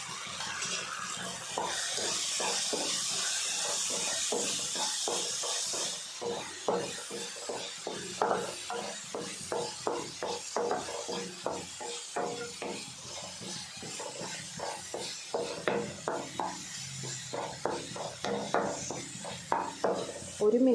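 Spoon scraping and clinking in a pan while tomato curry with turmeric, chilli and coriander powder is stirred, giving a steady run of short metallic knocks and scrapes, close and moderate, with a brief sizzle at the start.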